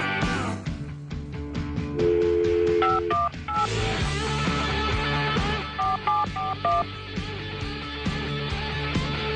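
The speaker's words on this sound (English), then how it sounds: "Let me try a phone number here." A telephone number is dialed, a quick run of DTMF keypad tones beeping one after another at close range, with no talk over them.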